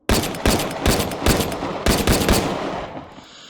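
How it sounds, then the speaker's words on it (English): An M1911 pistol fires in the VR shooter H3VR: around seven sharp, loud shots at a steady, quick rhythm, each with a short ringing tail. The last shot fades out. "So I'm going to fire the 1911 here so you can see this."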